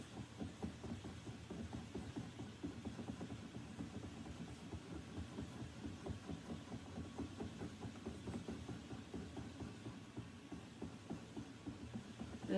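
A spinning wheel corespins naturally dyed art yarn, two colors blended and spun at once, giving a steady low rhythmic whirring and throbbing that runs continuously at moderate level with no talk.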